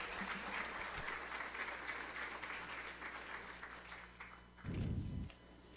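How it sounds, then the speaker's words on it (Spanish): A church congregation applauds to welcome a woman to the front during a Sunday service, steady clapping filling several seconds, ending with a brief low rumble of movement. "¿Qué les parece si la recibimos con un fuerte aplauso también?"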